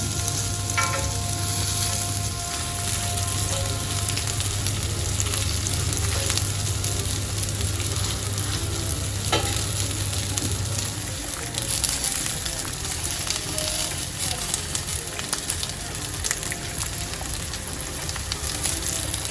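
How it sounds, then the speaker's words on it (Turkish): Steady, continuous sizzling of meatballs frying without oil in a hot cast iron pan, with occasional soft clicks and scraping, no voices. "hazırladığım köftelerimi döküm tavamda yağsız bir şekilde kızartıyorum"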